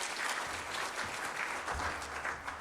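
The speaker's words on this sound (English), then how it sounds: "you can give Jono a round of applause" Audience applause at an ethical and impact investing awards ceremony, a dense steady wash of many hands clapping for a presenter, sustained and fairly loud through the whole stretch.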